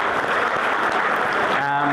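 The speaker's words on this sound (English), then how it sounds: "Let's keep the claps going." Audience applause at a church tertiary students' conference, a dense steady wash of clapping filling the whole moment, with a voice briefly rising near the end.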